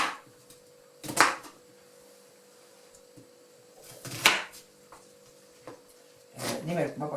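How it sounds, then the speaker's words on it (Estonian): Onion being cut into rough pieces with a knife, giving three sharp, well-spaced knocks against the board with quiet pauses between them. "Sibula ma lõikan siis nagu öeldakse suvaliselt tükkideks."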